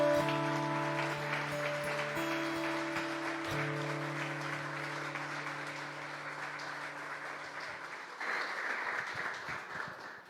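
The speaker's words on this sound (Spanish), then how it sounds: "Dale un fuerte aplauso al Señor, mi hermano." A church congregation applauds for several seconds over sustained organ or keyboard chords from the service, the clapping steady throughout and swelling slightly near the end.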